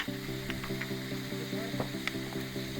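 Grated carrots dusted with ground cardamom fry in a wok for Uzbek beef plov, giving a steady close sizzle over a sustained musical drone with a few light scrapes.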